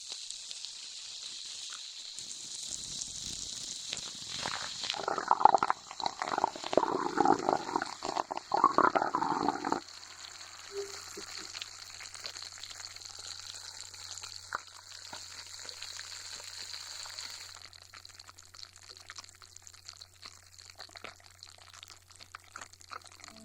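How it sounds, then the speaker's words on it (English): Seltzer water poured into a glass and captured by a hydrophone gives a burst of pouring and bubbling, then a long steady fizzing hiss that slowly thins out. "Here it is if I put it into a glass with some seltzer water"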